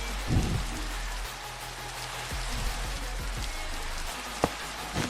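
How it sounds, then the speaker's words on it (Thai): Steady rain falls in the Minecraft video game, a continuous even hiss with a few faint low thumps and one brief sharp tick near the end. "ฝนตกอีกละ"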